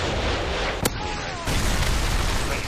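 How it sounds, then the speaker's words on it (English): A Predator missile strike in Modern Warfare 3 lands as one sharp burst partway through, set against a loud, continuous bed of in-game noise with rumbling low end. "Friendly Predator missile inbound."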